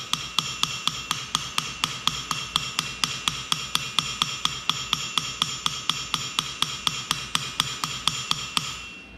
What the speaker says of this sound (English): I'm trying to lay those hammer blows